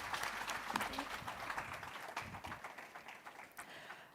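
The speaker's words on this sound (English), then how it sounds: "Please give them a round of applause as we make our way off stage" A conference audience applauds panelists at a regional One Health meeting for Eastern and Southern Africa. The clapping is steady and faint, sounds distant and fades gradually.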